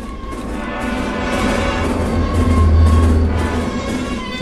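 A train passes in a video game, a steady rumbling roar that swells toward the middle and then eases slightly, with no talk.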